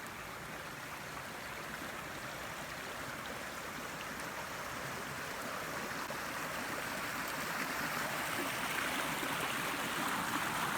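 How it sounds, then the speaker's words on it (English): Steady rushing and burbling of a small woodland stream flowing over rocks, continuous and moderately loud, with no voices. "So that's my little stream through the woods."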